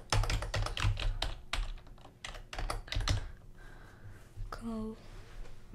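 Rapid typing on a computer keyboard during game development work, a dense run of close, sharp key clicks through the first three seconds, then quieter tapping under faint tonal sounds.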